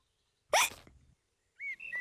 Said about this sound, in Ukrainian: годі вже гикати